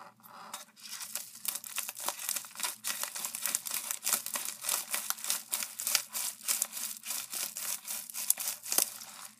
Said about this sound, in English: I'm so sorry that you have to hear me opening the packages